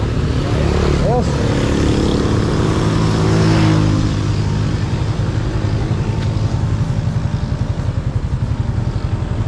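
A motorcycle engine runs steadily and loudly close by for the whole stretch, a constant rumbling drone with slight pitch shifts, with voices underneath.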